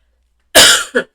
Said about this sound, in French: Voilà, je commence à tousser.